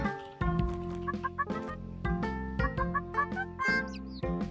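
Cartoonish chicken clucks from the video game Alpaca Stacka, short bright calls over a looping melodic game soundtrack, moderately quiet.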